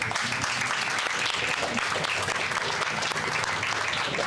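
Sustained applause from a carnival audience, dense and steady clapping throughout with a faint crowd murmur beneath.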